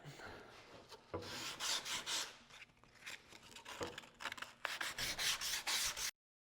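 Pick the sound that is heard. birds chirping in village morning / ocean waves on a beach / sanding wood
sanding wood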